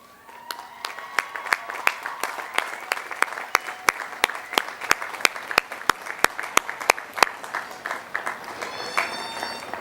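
At a 2007 College of Agriculture commencement, a standing audience claps in an even rhythmic beat of sharp, loud claps over a murmuring crowd for about nine seconds before the clapping breaks up.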